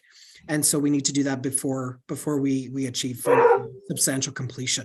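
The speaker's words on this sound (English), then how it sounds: "Sorry about my dogs." Household dogs bark and yip intermittently in the background of a town committee video call while someone speaks steadily over them.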